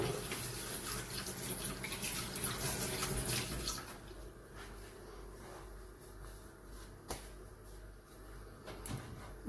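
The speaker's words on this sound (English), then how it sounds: "I'll just give my hands a quick wash." Running water from a kitchen tap splashes over hands being washed, a steady rushing wash with a few clunks, louder at first then easing into softer trickling.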